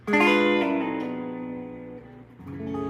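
An electric guitar diminished chord rings out and slides across the neck, its pitch shifting downward before a fresh chord is struck near the end.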